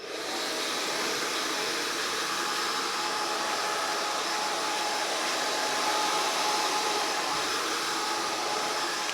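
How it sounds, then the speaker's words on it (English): A hair dryer roars steadily and loudly throughout while a man's hair is blow-dried with a vent brush, a continuous broadband whoosh with no pauses and no voices. "So I'm gonna blow dry the hair."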